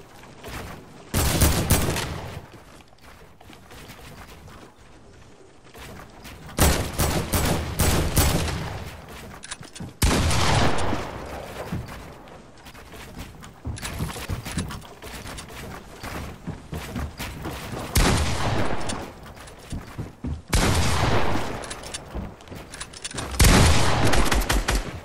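Submachine gun fired in a video game, rapid automatic bursts repeated at intervals, loud against a quieter background.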